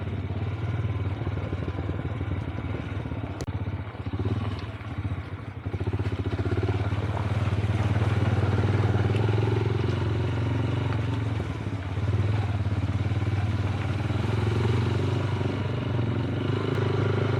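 Motorcycle ridden fast along the Shimshal mountain road gives a steady low engine drone with rattling clatter and wind roar, close and continuous, dipping briefly before climbing back to a constant run.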